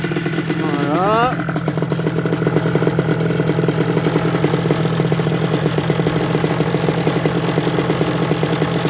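An MBK 51 hybrid moped engine fitted with a 12V gel battery cranks with a rising whine, then settles into a steady, close, buzzing idle that runs on without pause.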